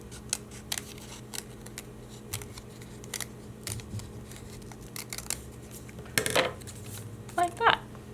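Scissors snipping paper while cutting out a saw-shaped card, a series of small light clicks spread across the clip, with a couple of louder handling rattles near the end.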